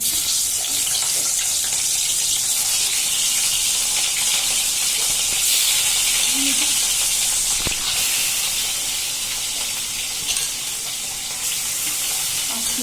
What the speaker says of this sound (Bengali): তেলটা গরম হয়ে গেছে, এখন এই যে মাছটি দিব।